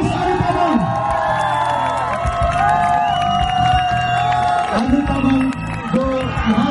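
Cheers, whoops and shouting fill the hall at a carnival fashion show, a dense, loud crowd roar with a little clapping mixed in and voices rising over it throughout.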